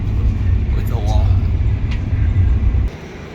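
Low, steady rumble inside a passenger train in Italy, with engine and wheel noise, fairly loud, with a brief faint chirp partway through before it drops off.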